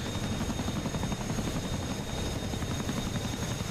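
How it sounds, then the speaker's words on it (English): A Chinook helicopter heard from outside in a VR flight simulator game, a loud constant rotor drone with a dense low throb and steady high whine, no talk. "this is the exterior of the Chinook"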